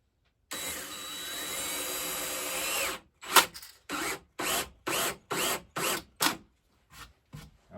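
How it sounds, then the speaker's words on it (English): A cordless drill drives screws, starting with one long steady whine and then giving a run of short bursts with pauses between them. It sounds close and moderately loud, with no talking. "I definitely need to use the drill more"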